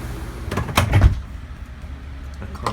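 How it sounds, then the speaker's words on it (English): A door being shut indoors: a few close knocks and a solid thud, then a quiet room. "I close my door because it's so hot out here"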